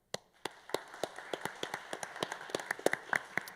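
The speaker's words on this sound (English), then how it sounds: "Can I have a round of applause for our panel?" An audience at a symposium applauds a panel. The claps are distinct and rhythmic, start sparse and thicken into a steady patter of many hands.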